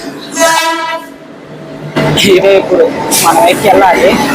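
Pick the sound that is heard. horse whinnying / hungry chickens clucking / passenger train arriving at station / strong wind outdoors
passenger train arriving at station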